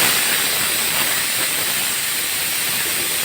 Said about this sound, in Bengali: একদম যখন সিটি বাজছে, ধোয়া উঠছে